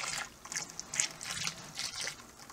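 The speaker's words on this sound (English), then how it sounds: "So I'll just start draining that wort out of there" Homebrewed beer wort drains from a brewing vessel in a faint, steady trickle with soft gurgles, close by and heard alone.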